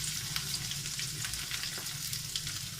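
Fish frying in fully heated oil gives a steady, close sizzle with soft crackling pops throughout, and no voices are heard.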